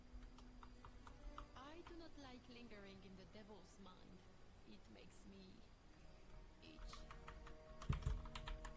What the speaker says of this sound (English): you do get a lot of keyboard noise if I don't run noise suppression